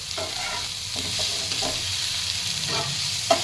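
Tondli (ivy gourd) masala with onion sautéing in a pan, a steady close sizzle broken by several scraping stirs of a spatula, with no talking.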